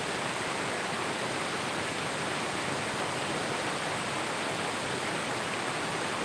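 Water of a stream or waterfall flows in a constant broadband rush, an even, unbroken hiss with no pauses or other sounds.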